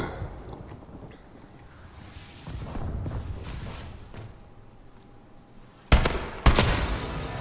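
Two sharp, loud gunshots crack in quick succession in Call of Duty Advanced Warfare, scoring two headshots after a stretch of quieter battlefield ambience.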